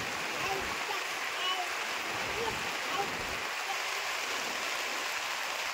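Heavy rain pours down in a steady, dense hiss that stays loud and close throughout, with no clear breaks in the downpour.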